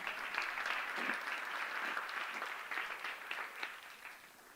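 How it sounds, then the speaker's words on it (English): Audience applause at a temple lecture hall gathering, a steady wash of many hands clapping together, moderately distant, tapering slightly toward the end. "give him a good round of applause"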